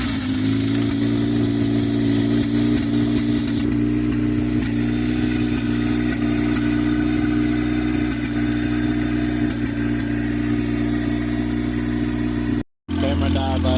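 A budget turbocharged Honda D-series engine car runs steadily outside, a loud continuous exhaust drone holding near idle with slight rev variation, cutting out briefly near the end.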